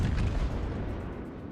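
Naval guns firing in the World of Warships game, a single deep booming blast that rolls out and decays over a second or so.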